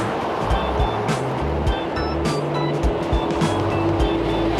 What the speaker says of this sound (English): See, it's quite noisy here, quite a few log trucks coming in.